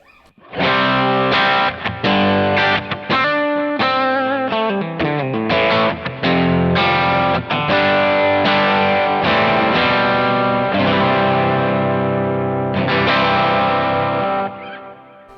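A distorted electric guitar through a pedalboard into a Kemper amp modeler plays a melodic phrase with chorus-like shimmer, loud and sustained, notes ringing into each other before fading at the end.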